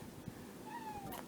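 A pet cat gives a single faint, drawn-out meow indoors, thin and quiet against low background noise.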